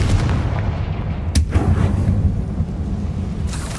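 A Confringo fire spell bursts in the video game Hogwarts Legacy: a sharp, loud explosive crack over a deep rumbling battle din, followed by a weaker blast near the end.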